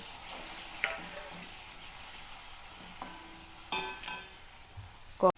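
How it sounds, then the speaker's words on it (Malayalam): Shrimp fry in a pan with a soft, continuous sizzle, broken by a few stirring clatters and scrapes, the sound moderately quiet and close. "ഞാൻ എടുത്തിരിക്കുന്ന ചെമ്മീൻ അതിട്ട് കൊടുക്കാം"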